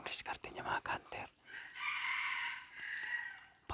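A bantam rooster crows once, a drawn-out, fairly faint call heard after a burst of clatter and rustling nearby.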